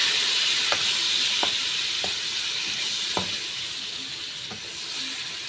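Adobo sautéing in a pan as soy sauce goes in, a steady broadband sizzle holding throughout with a few faint stirring clicks scattered on top, close and fairly loud, no voices.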